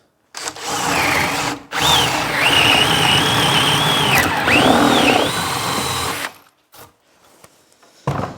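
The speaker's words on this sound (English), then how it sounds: "let's put a little piece of timber under to drill into" A power drill bores into a piece of timber in long whining bursts, its pitch rising and dipping under load, loud and close, with short pauses between runs.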